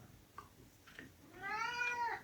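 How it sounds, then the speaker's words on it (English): A cat meows to be let outside, a drawn-out, rising and falling meow near the end that is loud and close, after a few short quiet sounds in a room. "And Ginger the cat wants to go outside"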